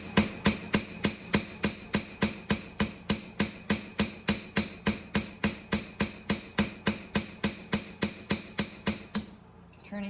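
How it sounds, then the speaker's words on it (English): A hammer strikes a sheet of sterling silver in steady, evenly spaced blows, about three per second, each a bright metallic ping with a short ring, repeating nearly thirty times before stopping. "I begin hammering the piece."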